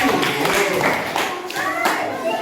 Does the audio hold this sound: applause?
yes